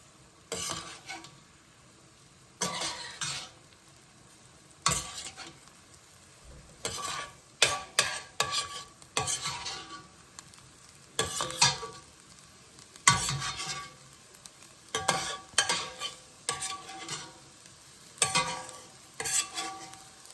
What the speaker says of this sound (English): after the shrimp have cooked for about maybe a minute and a half, we're going to pull them out